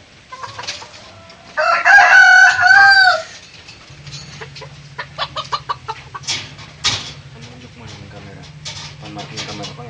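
A bantam rooster crows loudly and close by for about two seconds, then clucking and chatter of fowl continue, with a low steady hum underneath.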